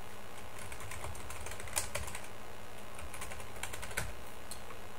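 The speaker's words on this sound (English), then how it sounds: "by typing your email" Fingers type an email address on a computer keyboard in quick, uneven bursts of close, light key clicks, with a few louder taps over a steady faint background hiss.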